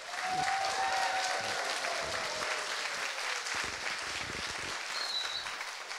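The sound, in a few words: audience applause for a senator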